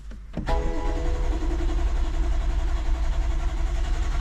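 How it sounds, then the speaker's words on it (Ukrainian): A click followed by a BMW M8 engine turning over with little petrol in the tank, a steady mechanical whir and rumble that keeps going without catching. "Але крутить мотор"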